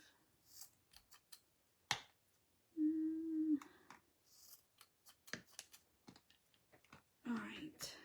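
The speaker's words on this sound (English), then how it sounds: "So let's cut the scarf." Scissors cut through a fabric scarf with a string of crisp, close snips and clicks spread unevenly over several seconds. A short hum and soft handling noises come between the cuts.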